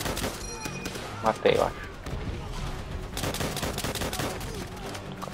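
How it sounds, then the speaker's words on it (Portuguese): Rapid bursts of machine gun fire crackle through a Call of Duty: World at War battle, dense and repeated under a player speaking briefly. "tem um cara na metralhadora lá"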